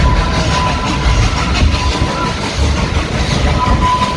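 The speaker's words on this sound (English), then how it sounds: "Listen to the engine as it goes up the mountain." Klondike Katie, a steam train at Dollywood, climbs a mountain grade with a steady, loud rumble of wheels and engine throughout and a faint clickety-clack of the railcars. No one speaks.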